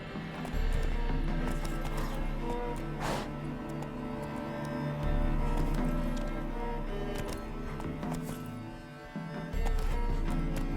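Roach the horse trots in The Witcher 3, hooves clip-clopping in a steady rhythm beneath a loud game soundscape of layered music and ambience.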